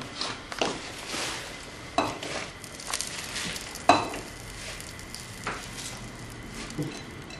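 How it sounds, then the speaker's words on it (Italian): Turnip greens hitting a hot pan of orecchiette, a steady sizzle broken by several sharp clanks and scrapes of a utensil stirring against the pan. "Adesso aggiungo le rape."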